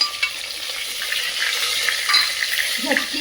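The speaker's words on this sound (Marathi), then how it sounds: "आता ही वांगी छान परतून घ्यायची व्यवस्थित" Stuffed brinjals sautéing in a pressure cooker pan with asafoetida give a steady close sizzle, with scraping stirs and light metallic clinks throughout.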